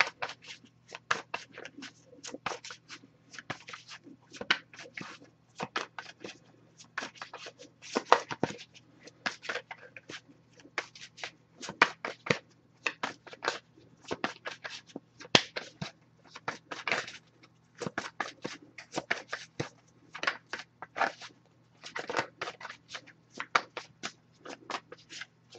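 A deck of cards is shuffled over and over close by: quiet riffles and soft slaps in irregular bursts with short pauses, and no one speaks.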